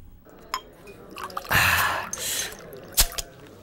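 Liquor is poured into a glass: a few sharp drips and clinks, then a brief trickling stream, followed by a couple more glassy taps, close and moderately loud.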